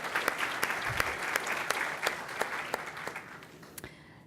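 Audience clapping at a city employee service award ceremony, with a steady mass of hands and several sharper, louder claps standing out, tapering off near the end.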